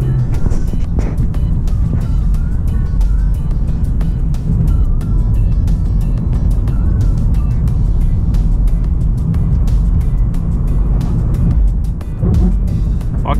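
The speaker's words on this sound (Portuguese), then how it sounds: "Passar de carro agora, galera, vem comigo." Car driving across the Golden Gate Bridge in San Francisco, a loud, steady low road and engine rumble with wind buffeting running continuously throughout, no voices present.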